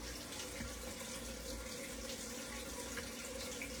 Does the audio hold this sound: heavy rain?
no